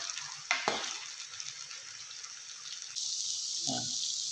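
Pre-cooked beef tikka boti pieces fry lightly in a pan with a soft, steady sizzle, broken by a couple of stirring scrapes and a brief clatter near the end, all fairly quiet.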